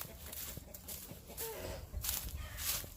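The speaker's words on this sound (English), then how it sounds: "Look at my chicken, guys. They are everywhere." Chickens cluck and call around a Texas farm near a pig pen, short bird calls scattered over steady outdoor background noise and a low rumble, fairly close by.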